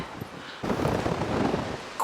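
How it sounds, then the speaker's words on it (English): Gusty wind buffets the microphone high up at Cheddar Gorge in Somerset, a soft rush that swells suddenly partway through and keeps blowing roughly until the end. "It's not normally this windy."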